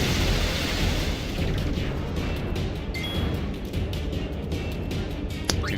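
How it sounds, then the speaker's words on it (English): Divine Dragon Cannon attack from Final Fantasy X erupts as a sustained, roaring explosion with dense low rumble, followed by a sharp burst near the end. "Dude's going all Divine Dragon Cannon on me."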